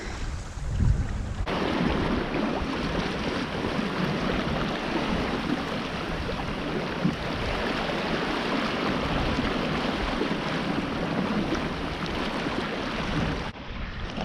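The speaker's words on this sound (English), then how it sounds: "Nice to have a little bit of breeze." Steady wind rushes past a sailing dinghy at sea on a cruise toward Jervis Bay, a loud continuous roar of breeze and water with no talking.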